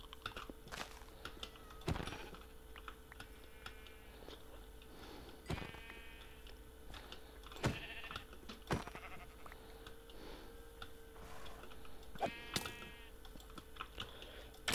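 Sheep bleat in a video game, several short bleats recurring at intervals against a steady ambient background, with sharp clicking keyboard-like taps scattered between them and no talk.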